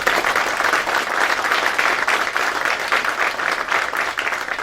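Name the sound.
round of applause at anniversary event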